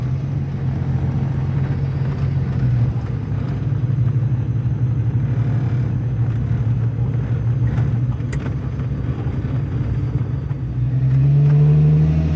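A 1930s Ford car's engine drones steadily as it drives, a loud continuous low rumble with a slight rise in revs near the end, no voices over it.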